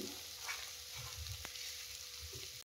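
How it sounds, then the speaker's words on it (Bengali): Prawn malai curry masala, cooked with milk, sautés slowly in a pan on low flame. A faint, steady sizzle runs throughout, with soft scraping stirs and one brief sharp click near the middle. "একটু লো ফ্লেমে এটা কষা হোক"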